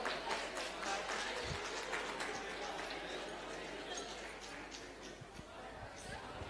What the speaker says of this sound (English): Huge round of applause to sir